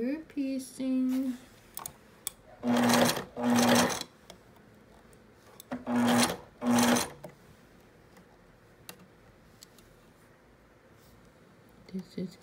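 A sewing machine stitches curved quilt pieces in short bursts of rapid, loud whirring, close by, with pauses and quiet handling noises between runs. A person speaks briefly at the start and again at the end.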